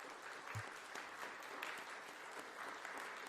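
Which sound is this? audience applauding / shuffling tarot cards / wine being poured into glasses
audience applauding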